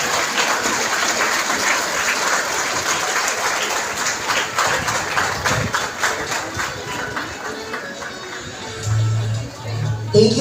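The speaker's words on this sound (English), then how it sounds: "Let us all give a warm and enthusiastic round of applause to Darcy G. Pangayta." Graduation ceremony audience clapping for a guest speaker's introduction, a dense, fairly loud round of applause that thins toward the end, with a few low bumps as it fades.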